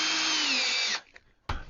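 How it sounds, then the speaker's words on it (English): A power drill drives a 1 inch drywall screw into 1/2 inch plywood, a loud whirring burst that winds down and stops, followed by a short second blip of the motor. "Next we screw down the 1/2 inch plywood with 1 inch drywall screws."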